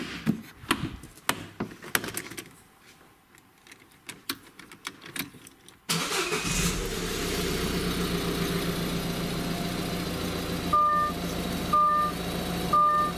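A Citroen C5 engine cranks and fires at about six seconds after faint clicks and rattles, then settles into a steady idle with repeated warning chimes sounding near the end.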